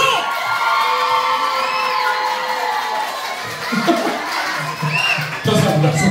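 Guests at a Korean-style first birthday party cheer and whoop together as a dense, lively crowd, with children's shouts mixed in, sustained loudly throughout and swelling again near the end.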